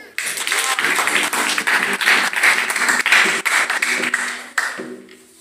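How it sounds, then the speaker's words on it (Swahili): A church congregation applauds during a Swahili sermon, sustained loud crowd clapping filling the room for several seconds before tapering off abruptly near the end. "Pigia Bwana makofi."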